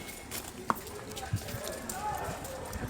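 A horse's hooves clip-clop on the Matheran forest trail, a few scattered hoof strikes under a person talking nearby.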